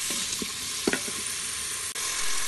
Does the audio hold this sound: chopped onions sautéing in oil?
yes